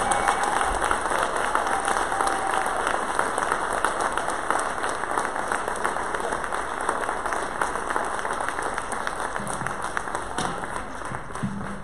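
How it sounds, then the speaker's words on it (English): Audience at a Durham Public Schools equity event applauds a group of young men, a steady, dense roomful of clapping that continues evenly for about twelve seconds with faint crowd murmur. "Let's give them a round of applause."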